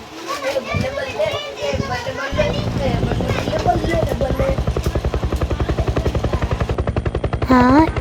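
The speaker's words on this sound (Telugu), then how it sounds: "హెలికాప్టర్ సౌండ్ ఎక్కడి నుంచి వస్తుంది?" A helicopter passes overhead at an outdoor spot, its rapid rotor thumping growing into a strong, even pulse beneath excited children's shouts and chatter.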